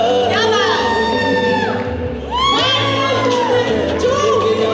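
At a family Rakhi celebration, a lively crowd shouts and cheers steadily, with loud voices, whoops and people talking throughout.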